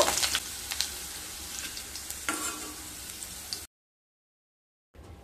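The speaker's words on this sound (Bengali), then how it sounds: "এবার ওই তেলের মধ্যে একটা মিডিয়াম সাইজের কেটে রাখা আলু ভেজে নেব" Potatoes fry in hot oil with a bright, crackling sizzle and scattered pops, continuing steadily for a few seconds before dropping to silence, then a faint return at the very end.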